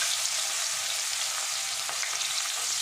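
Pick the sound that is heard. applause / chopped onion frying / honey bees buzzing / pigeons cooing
chopped onion frying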